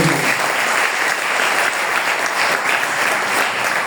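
A church congregation applauds during a Sunday evening service, steady full-room clapping that holds at an even level throughout.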